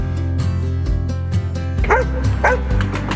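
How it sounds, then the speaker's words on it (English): A golden retriever in the small town of Idlewild, Riverside County, barks and yips in a lively run of close, fairly loud calls. A steady musical bed plays underneath. "Not to mention the town's mayor, a golden retriever"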